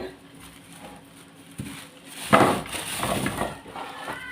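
A garlic bulb is pulled apart into cloves by hand in a home kitchen, a brief burst of dry papery crackling and snapping close to the microphone, with quieter rustling afterward.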